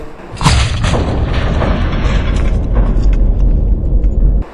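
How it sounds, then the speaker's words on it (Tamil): Sustained, loud rumbling explosion boom from a nuclear blast, a sharp onset followed by a dense roaring wash that continues for several seconds without fading. "ஒரு அணு ஆயுத வெடிப்பின் சத்தம் எவ்வளவு பயங்கரமானது"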